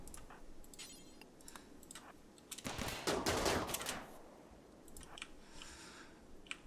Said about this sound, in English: Okay, so Decker's stopped to shoot.